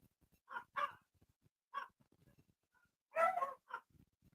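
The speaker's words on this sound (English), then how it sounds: "And now the dogs are barking" Several dog barks from a movie scene ring out in short separated bursts, two close together, then a single bark, then a louder double bark, fairly near with quiet gaps between.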